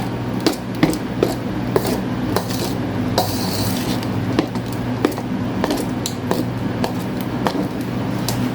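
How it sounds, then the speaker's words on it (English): A mixture for a dessert with a graham cracker crumb crust being stirred in a bowl, with regular light knocks and clinks of the utensil against the dish over a low steady hum. "Stir that all up."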